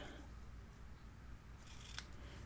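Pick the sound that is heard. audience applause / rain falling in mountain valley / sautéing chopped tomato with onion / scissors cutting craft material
scissors cutting craft material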